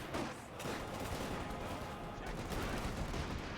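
Dense, continuous machine gun fire and battle noise from Company of Heroes 2, a loud unbroken clatter of overlapping shots with a voice talking over it.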